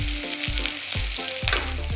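Ginger and garlic frying in a pan for mutton curry, a steady close sizzle with soft repeated scraping stirs.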